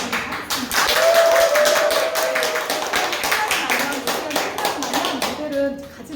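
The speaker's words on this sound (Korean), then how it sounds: "우리 모델분에게 다시 한번 큰 박수 받도록 하겠습니다." A live audience at a beauty demonstration claps for a model, a burst of sharp, quick hand claps at close range, with a host speaking over the clapping.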